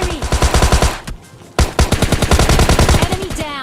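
Rapid automatic gunfire from an M4 and a Tommy gun in the mobile battle royale game PUBG Mobile Lite, loud sustained bursts with a brief pause midway, then continuous firing again.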